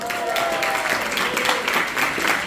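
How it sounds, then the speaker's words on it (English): Audience clapping at a Puerto Rican cultural breakfast honoring community leaders, a dense steady applause heard close and fairly loud for the whole stretch, with a faint voice briefly under it. "Give them a round of applause."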